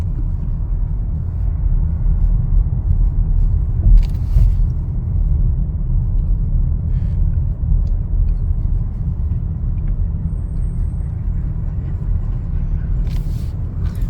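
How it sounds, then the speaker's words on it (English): Steady road traffic rolls past on a busy road near a railway bridge and another bridge overhead, a continuous low rumble of cars and buses with a couple of brief hissy bursts, heard close and unbroken throughout. "This road has always traffic."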